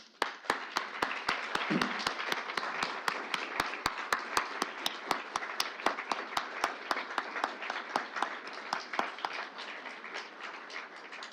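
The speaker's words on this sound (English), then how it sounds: "please stand and again have another round of applause for the former awardees" A crowd at an award ceremony claps steadily and continuously, a dense wash of applause lasting throughout, moderately distant and gradually thinning toward the end.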